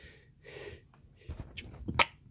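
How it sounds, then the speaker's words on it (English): A single person's sneeze, a short sharp burst near the end following a few quiet breathy sounds, close and fairly faint. "I sneeze."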